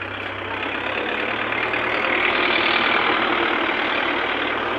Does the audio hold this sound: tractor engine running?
yes